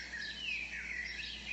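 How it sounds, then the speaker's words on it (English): Birds sing among trees, thin high chirps and sweeping whistled notes flowing continuously at a moderate distance over a quiet background, with no voices present. "Listen to the rustling of the trees and the sound of the birds."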